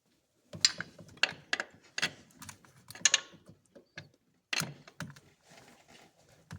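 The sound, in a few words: releasing belt tensioner on Land Rover LR2 3.2L engine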